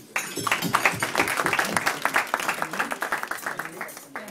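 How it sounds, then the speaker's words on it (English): A round of applause for a guest: moderate, close clapping from a small gathering, individual claps audible in an uneven rhythm, with a few voices mixed in. "We just have a round of applause for him"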